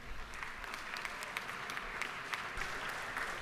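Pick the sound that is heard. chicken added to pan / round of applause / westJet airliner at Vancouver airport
round of applause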